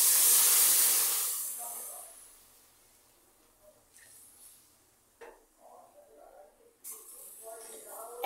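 Boiled milk is poured into a pot of simmering rice pudding made with shyama rice and palm kernel, opening with a loud steamy hiss that fades into soft, faint bubbling and liquid sounds, with no talk over it.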